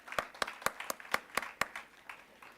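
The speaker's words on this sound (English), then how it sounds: "let's give a big round of applause to Ram" An audience at a national colloquium session claps for Ram, a speaker. The claps are few, distinct and fairly quiet, with a loose, uneven rhythm that gradually thins out.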